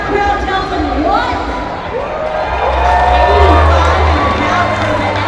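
Rodeo crowd at the Calgary Stampede cheering loudly after a qualified bull ride, a sustained roar of many voices with shouts rising and swelling through the arena, an announcer's voice carrying over it.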